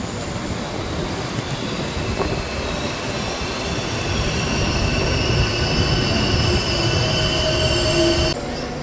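Tamralipta Express (12858) train rolling into Santragachi station, a steady, loud rumble of wheels and carriages with faint squeal tones, continuous throughout and dropping slightly at the end.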